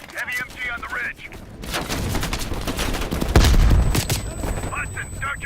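A heavy machine gun fires from a ridge in Call of Duty Black Ops Cold War, with sustained rattling bursts and a sharper booming hit partway through, under short bursts of game radio voices at the start and the end.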